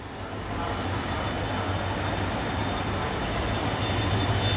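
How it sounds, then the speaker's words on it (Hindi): A goods train passes at Ambala City railway station, heard as a loud, steady rolling rumble and rattle of wagons that carries on without a break. "ये देखिए एक ट्रेन आ गई है, वो दूसरे प्लेटफॉर्म पे है और जा रही है, वो मालगाड़ी है, मालगाड़ी।"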